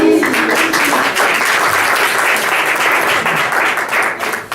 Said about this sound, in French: Et on peut les applaudir pour les encourager.